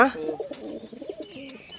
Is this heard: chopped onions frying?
no